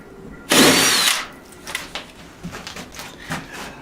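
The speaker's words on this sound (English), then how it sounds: "drill these 2 holes right there" A power drill whines loudly in one short burst drilling a hole in a wall for a TV bracket, followed by quieter scattered tapping and handling noises.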